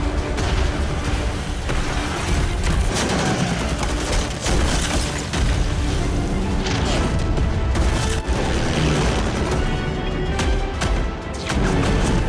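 Artillery and gunfire in a war drama set in a city under bombardment, with dense rumbling booms and crackling bursts layered loudly and continuously.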